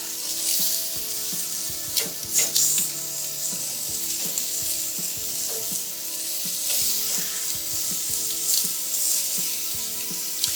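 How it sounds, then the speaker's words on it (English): Chicken teriyaki skewers sizzling loudly in a pan, a continuous close frying hiss broken by scraping and the clatter of the skewers being flipped, with no talk. "just get in there, do a little scrapey scrapes, and then flip."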